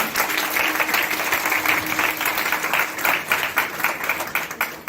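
A church congregation at a Palm Sunday service bursts into loud, sustained applause, dense clapping from many hands that keeps a steady level and never breaks, with no speech on top.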